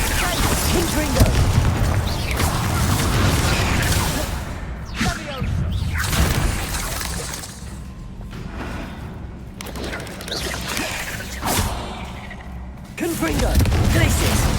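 Confringo fire spells blast repeatedly in Hogwarts Legacy, a string of booming whooshes and thuds mixed with other spell effects and game sounds, with a voice talking over parts of it.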